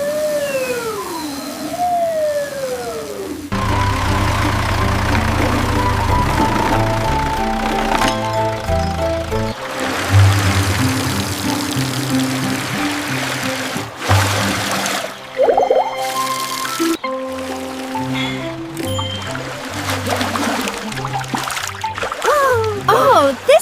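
Cartoon cleaning vehicle blasting a powerful water spray, a loud continuous gushing hiss with splashy bursts, layered under bright music and sound effects, with animated voices heard at moments.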